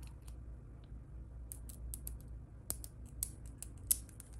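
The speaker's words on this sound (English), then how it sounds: "I just trim a little bit of the stem of the feather off." Scissors snip the stem end of a feather while a crochet dream catcher is being made, giving a few faint, crisp clicks and small snips spread irregularly over a quiet background.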